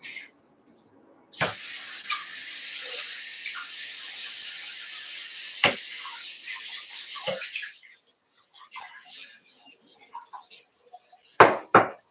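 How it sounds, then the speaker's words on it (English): Food is rinsed under a running kitchen tap: a strong, steady hiss of water runs for about six seconds, then cuts off, followed by a few sharp knocks and faint handling sounds. "I'm just gonna rinse these real quick"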